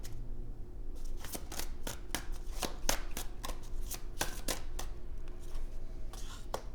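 Tarot cards being shuffled and drawn make a run of quick, crisp riffling snaps at close range, coming in irregular bursts over a low steady hum.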